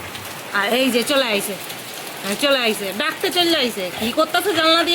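Heavy monsoon rain pours steadily outdoors as a constant broadband wash, with someone talking over it at close range throughout.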